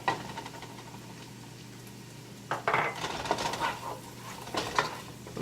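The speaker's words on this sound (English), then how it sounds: "let's just add our garlic in here" Garlic going into a pot while cooking potato, shrimp and bacon chowder, heard as a few soft clinks and scrapes of a utensil against cookware after a quiet start, with no talk.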